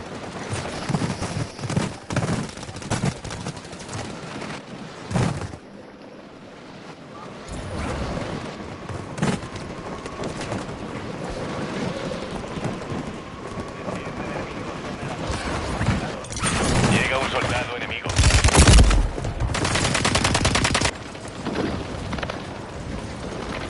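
Sustained video game gunfire in Call of Duty Warzone, dense volleys of shots roll on almost without pause across a battle zone, with louder bursts and blasts near the end and faint voices mixed under the din.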